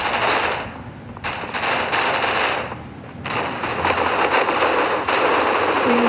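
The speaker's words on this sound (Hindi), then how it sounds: "लेकिन यहाँ से आवाज़ आई है फायरिंग की." Rapid bursts of gunfire in the video game C-OPS crackle repeatedly over a steady noisy background, loud and sharp, with short pauses between volleys.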